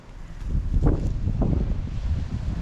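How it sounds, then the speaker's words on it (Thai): Strong wind gusts buffet the microphone outdoors in rural brush after rain, a rough, uneven roar with a few louder surges and no talking. "ลมคัก"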